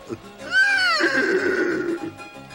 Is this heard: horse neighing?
yes